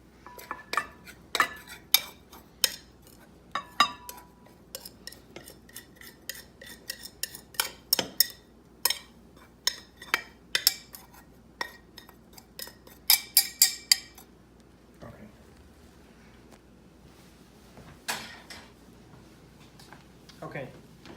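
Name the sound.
butter knife working hot food until crumbled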